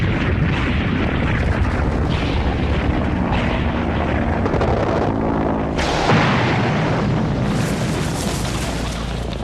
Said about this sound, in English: the Germans started sending the new V-1 flying bombs across the Channel